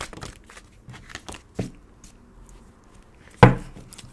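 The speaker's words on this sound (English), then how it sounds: "Bear with me as I shuffle." An oracle card deck is shuffled by hand: a run of soft, crackly riffles and papery rustles close by, with two sharper snaps of the cards, one midway and a louder one near the end, and no voices.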